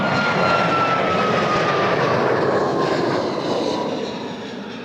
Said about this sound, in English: here's a 737 MAX 8